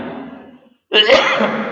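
A single sharp cough bursts out close to the microphone after a brief pause, following a few muffled trailing sounds.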